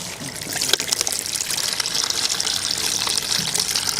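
Liquid organic fertilizer poured onto a plant on an organic farm, a steady splashing trickle running continuously for a few seconds with no talking.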